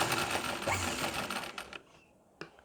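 A sewing machine stitching fabric for a kurti or blouse neckline whirs rapidly and loudly up close for about a second and a half, then stops, followed by a single sharp click.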